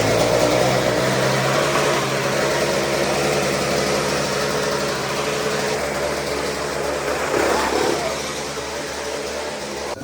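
A newly bought pickup truck's engine runs continuously and loudly up close, a steady rumble with a slight change in tone near the end.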